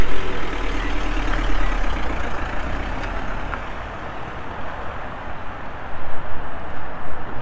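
A 2016 Mercedes Citan van with a suspected drive shaft knock drives along, producing a loud, steady low rumble of engine and road noise with faint intermittent clunks underneath and no talking.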